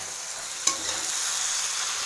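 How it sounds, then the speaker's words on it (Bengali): Chalta fruit simmering in jaggery in a pan is stirred slowly over low flame, giving a steady soft sizzle with one sharp scrape or clink of the spoon near the start. "এবার আস্তে আস্তে নাড়তে হবে"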